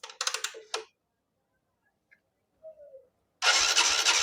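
A TVS Star City motorcycle with an injector problem is started on its self-starter: a few clicks and short cranking noises, a pause, then the engine catches into a loud, steady close-up idle with a pulsing low thump.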